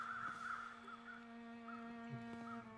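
Crows caw several times in the snowy wilderness of the survival game The Long Dark, harsh calls spaced out over a steady hum of ambient game sound with constant tonal drones.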